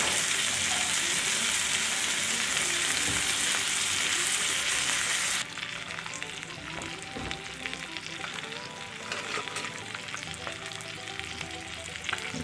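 Bacon sizzles steadily in a cast iron skillet over medium heat, a dense, close frying hiss that drops to a lower crackle partway through, with no talking.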